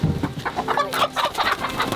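A pet bird clucks in a series of short, chicken-like calls, close and moderately loud, repeating steadily through the moment.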